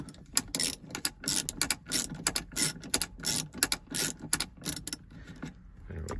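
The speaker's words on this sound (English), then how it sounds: "And if we turn it clockwise, it'll tighten up that cable." A wrench ratchets on the hand brake cable adjuster of a 1990-2005 Mazda Miata, giving close, crisp bursts of rapid clicking in repeated strokes with short pauses between, fading near the end.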